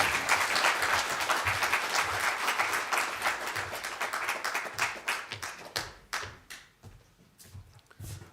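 An audience claps at a census report launch event, dense sustained applause that thins into scattered individual claps toward the end, with no talk over it.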